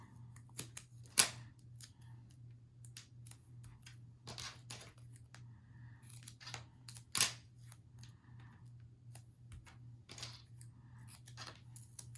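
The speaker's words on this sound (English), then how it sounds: "Make sure you're using your Teflon scissors if you have them." Teflon scissors snip through craft material in a few sharp, separate cuts spread over a quiet stretch, with a steady low hum running beneath.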